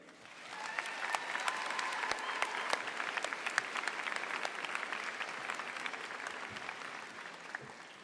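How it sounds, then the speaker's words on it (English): Convocation crowd at Mount Royal University claps in a steady, full round of applause that swells quickly after a quiet start and holds evenly to the end. "please join me in a round of applause to show your gratitude for all of these people who supported you along the way."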